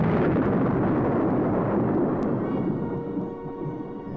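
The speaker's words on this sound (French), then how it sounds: "l'étoile noire explose comme une centaine de soleils en fusion" Huge roaring blast of the Death Star exploding, a Star Wars sound effect from a 1983 French storybook record, a dense thunderous rumble that fills the clip, then slowly thins and fades while staying loud.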